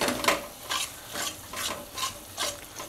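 Vegetable masala of tomato and onion being stirred and mashed in a pan, a steady rhythm of about six scraping strokes over a soft sizzle, close and clear with no talk.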